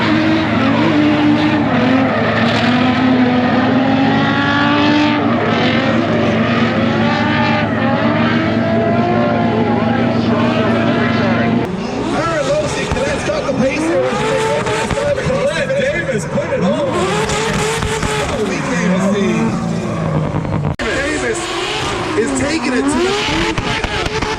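A Volvo police car drifting at the LZ Invitational 2022 event: the engine roars at high revs while tires squeal in long, wavering screeches, with a loud crowd-like wash and voices underneath.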